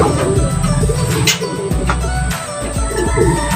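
Racing pigeons cooing at the end of a race with low, soft, repeated calls, fairly close, against a busy background of clatter and noise.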